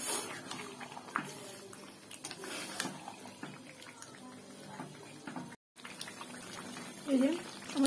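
Masala water is poured into a potato curry in a pan. The liquid splashes and hisses steadily with a brief break, then swells louder near the end.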